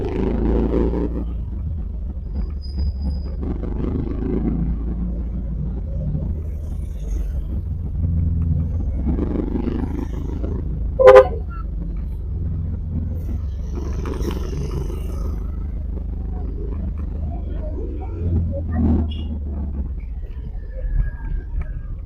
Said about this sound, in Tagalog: Nagta-traffic na mga boss.